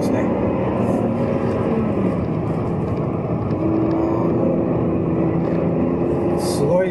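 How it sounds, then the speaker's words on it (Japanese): A Volvo S60 T6's 3-litre turbocharged inline-six engine hums smoothly and steadily throughout, a continuous low rumble with even tonal drone and no pauses. "これは T6、3リッターの直列6気筒のターボですね。"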